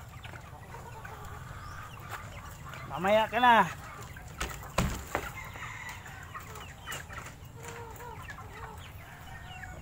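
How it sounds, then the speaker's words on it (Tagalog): Free-range Shamo and heritage chickens cluck in a short burst of harmonic calls near the middle, with a brief spoken phrase and farmyard background around them. "Tulad nitong ganitong mga manok ko."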